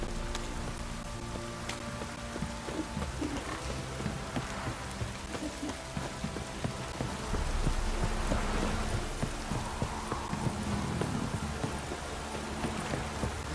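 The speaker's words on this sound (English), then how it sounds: "This downpour's a bastard, it is." Steady heavy rain pours down in a dense, continuous hiss in The Witcher 3, with low rumbling underneath and no voices.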